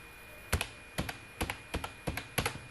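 Keys tapped on a computer keyboard while typing a number, about six distinct clicks spaced evenly and close by in a quiet room.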